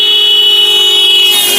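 A Scion XD car horn blares loud and steady as the car passes, one sustained multi-tone honk that bends slightly in pitch near the end.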